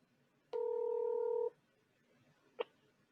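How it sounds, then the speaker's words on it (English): A phone line emits a long steady dual-tone beep of about one second, then a brief single tone chirp, while dialing an 800 number, clear against a quiet background. "I want to call this phone number right now just to see if he's there."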